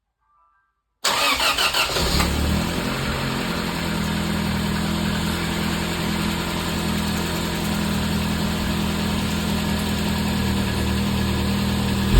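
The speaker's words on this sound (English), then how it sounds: "So now I just need to put back the battery terminal and start the car." Toyota Celica engine cranks and catches after about a second of silence, then settles into a steady, loud idle that continues without change to the end, with no talking over it.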